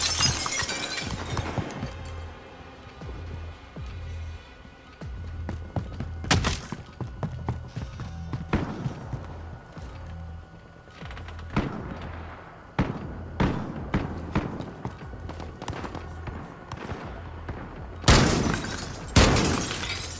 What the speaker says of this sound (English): I like how I shoot the glass and it doesn't shatter